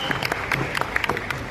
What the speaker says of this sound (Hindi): And जोरदार तालियां.